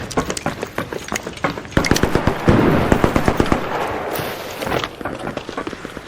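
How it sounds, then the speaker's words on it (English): Rapid bursts of video game gunfire crack out in a busy firefight, with clusters of sharp shots close by, some louder volleys midway and a few scattered pops toward the end. "He's shooting me again."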